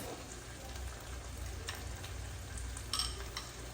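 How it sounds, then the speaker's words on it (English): Butter sizzling in a hot pan for a meatloaf sauce, a soft, steady frying crackle with a few small pops, faint and close. "Your butter, oil, whatever you use is nice and sizzly"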